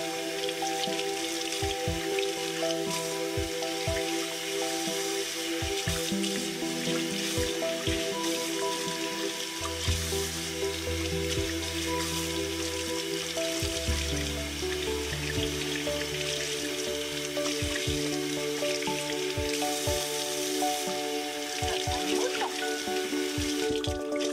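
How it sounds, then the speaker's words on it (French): Skein of yarn rinsed under running tap water after natural dyeing, with a steady close splash and patter of water and scattered drips throughout, over a background of tonal music, with no talk. "Un rinçage à l'eau courante."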